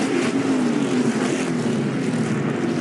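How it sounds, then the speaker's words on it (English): NASCAR race cars roar past at the finish of an oval race, with a wreck unfolding on the front stretch; a loud, steady, droning engine wail holds throughout with no pause. "Big wreck on the front stretch."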